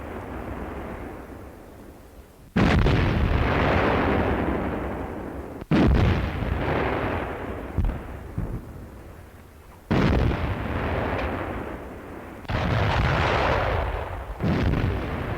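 Heavy artillery fire during the 1940 German advance toward the Aisne in France, a series of deep booming blasts every few seconds, each followed by a long rumbling roar that fills the pauses between them.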